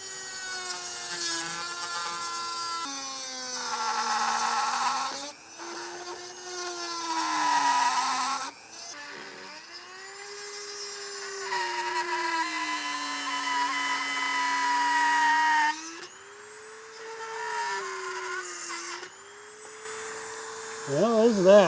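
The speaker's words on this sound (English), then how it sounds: "Might be time to get the Dremel out." A Dremel rotary tool whines at high pitch while cutting at a drum brake wheel cylinder on a Jeep TJ, its pitch rising and falling as it bites, stopping and restarting several times close by.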